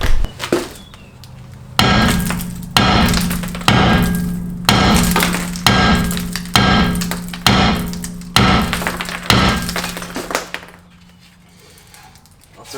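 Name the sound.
sledgehammer hitting stuck Ford Fusion brake rotor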